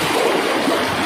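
A strong, fast river current in Lagonoy, Camarines Sur, a loud close rushing wash of churning water that stays continuous and even throughout.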